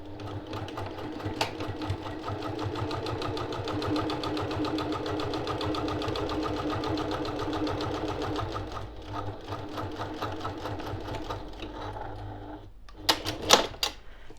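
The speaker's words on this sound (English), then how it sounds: "I'll come down and I'll sew along this side as well" A sewing machine stitches a seam along the side of a zipper pouch in a fast, even mechanical rattle for most of the stretch, slowing near the end with a few sharper clicks.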